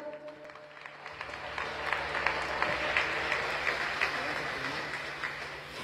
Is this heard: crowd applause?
yes